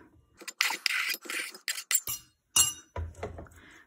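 Chopped vegetables, including onion, are tipped and scraped into a different bowl, giving a series of sharp clinks and clatters of glass and utensils with brief pauses between.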